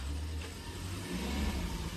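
Hyundai Xcent car, red, with 49,000 km on it, engine running with a steady low rumble that swells slightly as it revs, fairly close and without talk.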